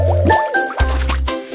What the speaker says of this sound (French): L'eau éclabousse de gauche à droite